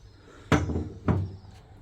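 Two solid car door thuds on a 1972 MG Midget, about half a second apart, each a sharp close slam with a brief hollow ring, in an otherwise quiet space.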